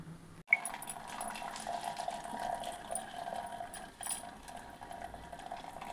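Sour cooking water strained off boiled pundi (sorrel) greens, a steady trickling pour of liquid that continues for several seconds after a brief knock at the start, close and moderately quiet.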